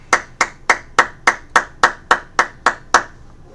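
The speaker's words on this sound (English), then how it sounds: "Clap it up." A single person claps eleven times in a steady, evenly spaced rhythm, each sharp clap close and distinct, with nothing else around it.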